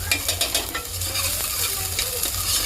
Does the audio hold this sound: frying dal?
yes